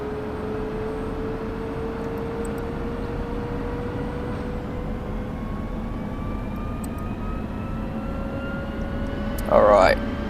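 An F-16CM jet engine spooling up in Digital Combat Simulator, a steady roar with tones rising slowly in pitch, a brief burst of noise near the end.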